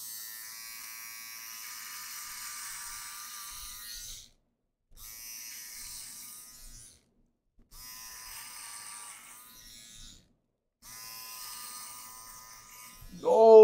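Electric razor shaving off a man's beard, a close, steady high buzz in four long passes separated by short silences, ending with a brief voice.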